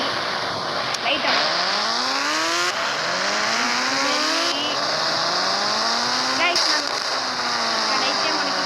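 The Ghost Rider bike in the Indian Bikes Driving video game revs over and over, its engine tone repeatedly climbing in pitch and dropping back against a constant loud background.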